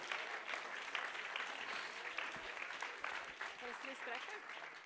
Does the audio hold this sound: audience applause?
yes